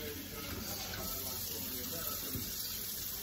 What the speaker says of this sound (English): run it under a bit of cold water